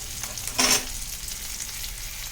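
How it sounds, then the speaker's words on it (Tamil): Small onions sautéing in a pan make a steady, close frying sizzle. Partway through, a brief louder scrape of stirring rises above it. No voices are heard. "இப்போ இந்த வெங்காயம் நல்லா வதங்கணும். சின்ன வெங்காயம் வதங்கட்டும், பார்க்கலாம்."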